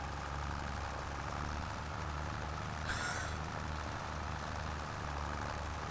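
A modded tractor engine in Farming Simulator 25 drones at a steady, loud idle, low and continuous, with a brief hissing burst partway through and no voices.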